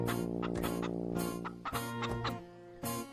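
Chickens cluck repeatedly up close, a busy overlapping run of short clucks and calls.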